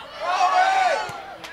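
Spectators cheer and shout at a men's college soccer match, a short rising swell of crowd voices that peaks and fades, fairly distant, with a couple of sharp knocks near the end.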